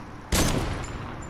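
A single sharp gunshot bursts from a Fortnite match, loud and close, followed by a brief fading tail of echo.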